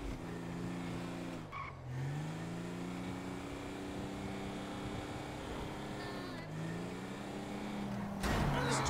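A car in Grand Theft Auto V is driven recklessly, its engine droning steadily with rising and falling revs and brief squeals, and a loud burst near the end.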